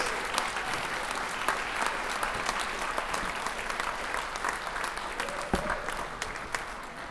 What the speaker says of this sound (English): can we please give our antique veterans a round of applause and thank them for their service?